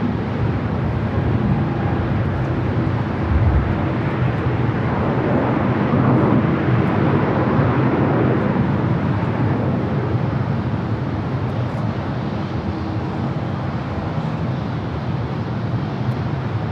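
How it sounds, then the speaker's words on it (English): A KLM Boeing 787-10 Dreamliner bound for Amsterdam roars steadily at LAX, a loud broad jet rumble sustained throughout with wind buffeting the microphone. "KLM Flight 602, the Dreamliner 787-10 Dreamliner heading back to Amsterdam"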